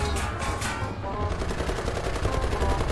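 Rapid machine-gun and cannon fire in the combat game War Thunder, with dense, continuous bursts of shots lasting the full stretch at steady loudness.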